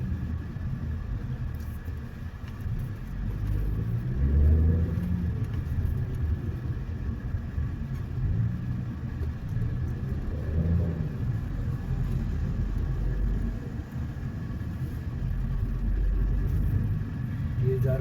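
A gravel truck grinds along a slow, hilly ghat-style road, a low engine rumble with passing vehicle noise heard from inside a moving car, continuous and moderately loud.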